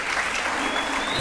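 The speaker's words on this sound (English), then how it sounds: "Please, another round of applause for her." A brief burst of dense audience applause fills a hall at a university convocation ceremony in Nigeria, loud and close, with a faint voice underneath.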